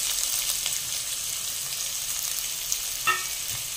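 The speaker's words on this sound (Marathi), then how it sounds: "कांदा छान आता परतून घ्यायचा" Three medium onions fry in hot oil with kasuri methi on high heat, a steady close sizzle with occasional soft stirring clicks and scrapes, no voices.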